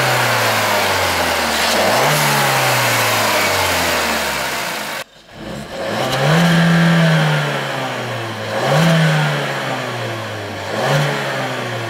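A Suzuki Swift Sport with the 1.4 BoosterJet turbo engine revs up twice in close succession, each pull rising and dropping back, the first longer and the next shorter, heard clearly with no talk.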